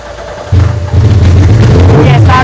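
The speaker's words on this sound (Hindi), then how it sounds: "ये स्टार्ट हो गई है, फिर से बंद हो गई, फुल रेस है" A Suzuki Hayabusa motorcycle engine, sealed in vacuum packing, cranks on the self-starter and catches into a loud, deep, rough rumble that briefly falters and then roars again, with someone talking over it.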